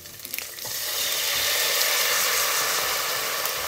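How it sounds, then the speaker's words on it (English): Black vinegar being poured from a full 750 ml bottle into a pot for pork trotter vinegar, beginning with a few clinks and then settling into a steady, close liquid splash and gurgle. "So I'll pour in the full bottle."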